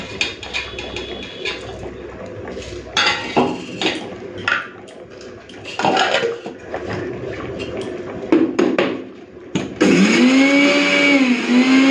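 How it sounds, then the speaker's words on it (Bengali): An electric kitchen grinder powdering fennel seeds, whole cumin and dried chillies: a loud, sustained whirring drone. Before it starts, scattered clatter of jars and utensils is heard. "প্রথমে আমি মৌরি, গোটা জিরে, শুকনো লঙ্কাটা একটুখানি গুঁড়ো করে রেখে দিই"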